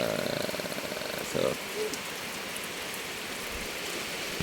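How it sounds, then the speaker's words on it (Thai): Steady rain falling outdoors in southern Laos, a dense even hiss continuing throughout, with a voice and brief sounds in the first second and a half. "เหลือเปียกฝนเหลือเปียกฝน"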